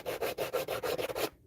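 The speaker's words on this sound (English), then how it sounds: "we'll need to get out the sanding stick" A sanding stick rubs back and forth along wood edges in about seven quick, even strokes, a close, dry scratching rhythm that stops abruptly into silence.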